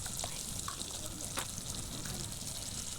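Ghee sizzles and crackles steadily in a pan while a cauliflower roast is cooked, a soft continuous frying hiss with a few faint pops, heard close and fairly quiet.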